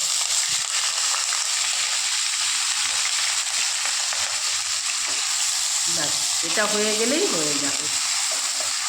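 Shredded potatoes for crisp aloo bhaja frying in oil, the last batch in the pan: a loud, steady sizzle throughout, with a short spoken line partway through.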